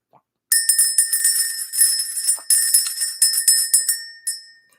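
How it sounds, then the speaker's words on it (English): A small bell rung to clear energy during a spiritual reading gives bright, sustained ringing tones, struck several times in quick succession over a few seconds and heard alone. "We're going to ring the bell."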